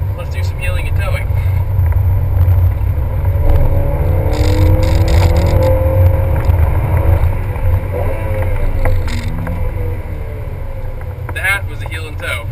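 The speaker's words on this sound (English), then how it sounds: "That was a heel and toe from second to third." A ninth-generation Honda Civic's engine blips and revs during a heel-and-toe downshift from second to third, the loud, droning cabin rumble rising and falling under wind noise, with no speech.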